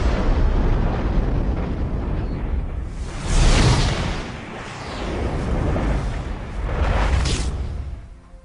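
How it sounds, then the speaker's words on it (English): Nuclear explosion sound effect: a loud, sustained roar with deep rumbling body, surging in waves with rushing whooshes over about eight seconds, fading slightly at the close. "A nuclear explosion."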